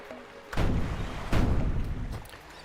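Two booming cannon shots from a video game in development, each a broad blast about a second apart with a lingering tail over a low background rumble.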